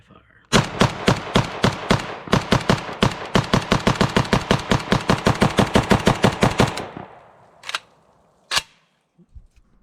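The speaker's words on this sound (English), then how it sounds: "let's run a mag through the SLR 104FR" A PSA SLR 104FR AK-74 style rifle in 5.45x39 empties a magazine outdoors: a rapid, steady string of loud, sharp semi-automatic shots, a brief pause mid-string, then the firing stops and two last isolated cracks follow.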